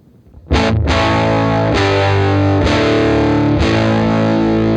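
Sustained distorted electric guitar chords through a 1955 Tweed tube amplifier, loud and continuous, struck several times in a steady rhythm with a thick, saturated tone.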